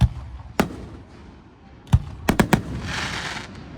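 Labor Day fireworks in Boiling Springs, Pennsylvania, pop in sharp separate bangs, including a quick cluster of three, followed by a crackling fizzle, fairly close and with no voices.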